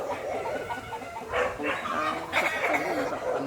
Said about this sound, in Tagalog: Naku, nagngangawa. Kawawa naman yung aso.